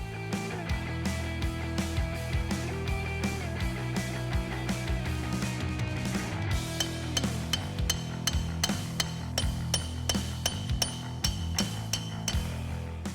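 Metal-on-metal hammer blows ring out in a quick, irregular series while hubs and suspension parts are knocked free from the steering knuckle of a 1996 Chevy Tahoe, mixed with clinks and a grinding mechanical rattle in a workshop.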